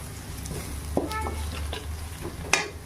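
Chicken liver masala with chili powder being stirred and fried in a pan: a steady sizzle with a few scraping strokes and two sharp utensil clinks against the pan, heard alone.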